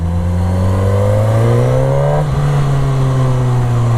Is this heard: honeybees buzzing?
no